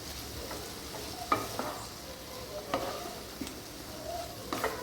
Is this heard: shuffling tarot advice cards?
no